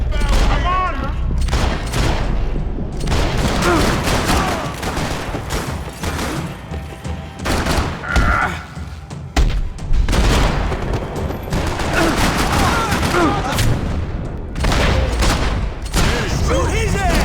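Dense, continuous gunfire from the Max Payne 3 video game: rapid overlapping shots and bursts ring out loud and close for the whole stretch, with a brief lull midway before the firing resumes.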